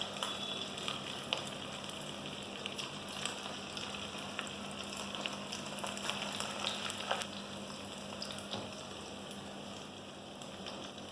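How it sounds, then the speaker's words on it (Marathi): Bhaji fritters frying in hot oil give off a steady soft crackling sizzle with scattered pops, continuous and fairly quiet, with no one speaking. "आता आपण भजी तळायला सुरुवात करूया."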